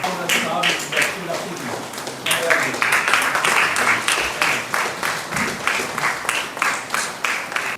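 A crowd at an Independence Day celebration claps enthusiastically as a guest is honoured with a shawl. The applause is close and lively, with a pulsing, rhythmic swell of claps that continues for several seconds.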